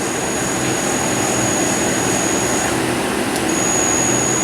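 The Z axis of a Bridgeport VMC3020 hi-speed vertical machining center moves down, giving a loud, steady mechanical whir and broadband drone with a thin high whine running through it, close by with no talking.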